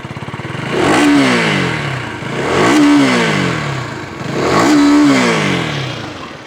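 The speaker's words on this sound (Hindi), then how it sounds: "तो ये इसका एग्जॉस्ट नोट है" A KTM Duke 250 single-cylinder motorcycle revs up three times, each blip of the exhaust rising to a loud, gruff peak and then falling back to a burbling idle. The bike is close by, and no one speaks over it.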